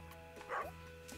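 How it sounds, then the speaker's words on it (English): A dog barks once in Stardew Valley on a co-op farm, a short, game-style yip at moderate volume over a quiet background of soft in-game music and ambience. "Have you seen the dog anywhere?"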